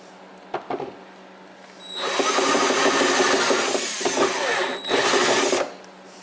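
A power drill with a step bit bores a hole, cutting steadily for several seconds with a short pause partway through. Brief taps come first, and no one speaks.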